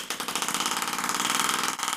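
A tiny, roughly 75-gram air-powered model engine built for a model airplane runs at high revs, giving a fast, steady pulsing chug with a hissing air rush, close and loud with no talk.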